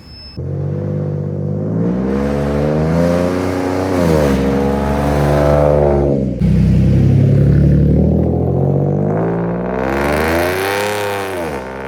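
A tuned Ford F150 engine revs up and down in several loud, close sweeps, its deep exhaust note rising and falling with brief drops between pulls.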